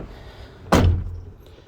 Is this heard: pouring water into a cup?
no